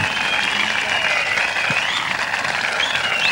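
Studio audience applauding during a New Year's Eve TV special after a performance, dense steady clapping that fills the room loud and unbroken from start to finish, with no voices over it.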